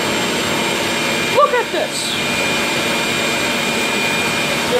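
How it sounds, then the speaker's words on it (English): A dry vacuum runs steadily through an apartment flood, its broadband motor roar constant and close under brief, excited talk. "Look, our dry vacuum, it is not stopping."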